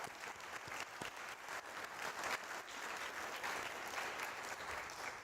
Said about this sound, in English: So, one more round of applause for you guys.